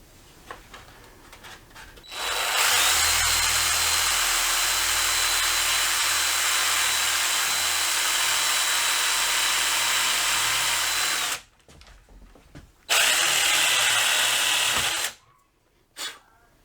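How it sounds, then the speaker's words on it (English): A power drill drives a screw through a wooden door header for a pocket door frame in a mobile home renovation, running loud and steady for about nine seconds, then in two shorter bursts. "I'm using the screw itself to drill the hole through the top piece so it doesn't split"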